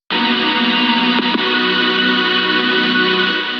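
A sustained, simple electronic synth chord for a mid-tempo/future bass track, bright and buzzy, starts abruptly and holds steadily with a small shift partway through.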